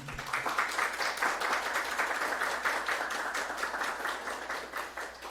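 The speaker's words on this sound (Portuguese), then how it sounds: "E peço uma salva de palmas" Sustained audience applause at a law exam workshop, many hands clapping steadily at moderate volume throughout, with no speech over it.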